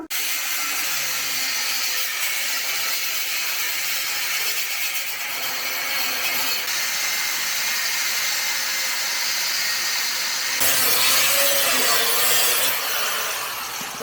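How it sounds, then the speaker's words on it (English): Cutoff wheel cutting and grinding metal while transforming a dwarf car into a side-by-side, a steady loud high-pitched whine running continuously, growing harsher and brighter near the end. "Let's do some cutting and grinding and see where we can get to at this point."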